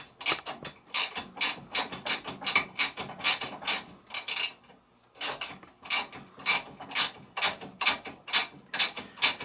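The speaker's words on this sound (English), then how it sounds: "let's try and ratchet this bad boy off" A hand ratchet clicks in quick bursts while loosening a bolt on a Sole treadmill incline motor, close and loud, with about a dozen rapid strokes, a brief pause, then another steady run of rasping clicks.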